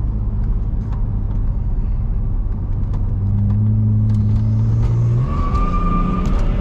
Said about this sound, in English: Let me know how do y'all feel about the exhaust.